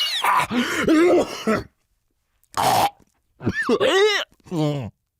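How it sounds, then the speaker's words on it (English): Several harsh coughs and throaty gagging sounds come in loud bursts separated by brief silences, close to the microphone. "Cue the coughing, a little gagging"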